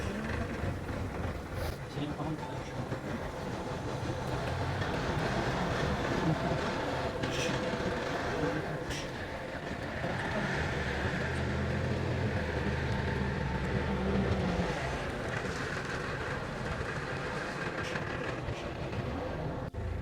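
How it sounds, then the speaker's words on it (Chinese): A wheeled loader's engine runs in a steady, continuous rumble while it fills in a newly built village road junction with sand, with people talking over the machine throughout. "我这个铲车可以随便开，开到哪里都行，因为它是轮胎"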